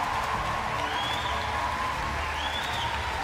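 Applause from a debate audience, a steady dense wash of clapping that fills the whole moment at moderate level with no voices on top.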